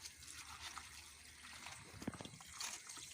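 Water poured over hands for washing, a soft, faint trickle and splash heard close by for a few seconds with a brief louder dribble partway through.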